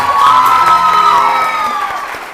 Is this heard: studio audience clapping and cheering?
yes